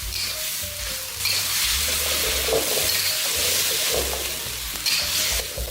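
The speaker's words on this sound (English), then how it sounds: "Then continue to cook it, half simmering and half stir-frying until the sauce thickens." Steady sizzling and bubbling from a pan of vegetable noodles half simmering, half stir-frying as the sauce thickens, with intermittent scraping and stirring strokes, close and continuous throughout.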